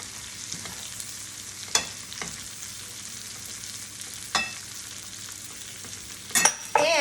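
Julienned vegetables fry in a pan with chicken, a steady close sizzle with occasional sharp stirring clicks and scrapes of a utensil, moderately quiet and free of talk.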